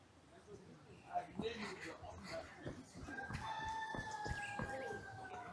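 Chickens at a Papua New Guinea festival ground cluck and crow several times, fairly close, amid a lively outdoor backdrop with people talking nearby.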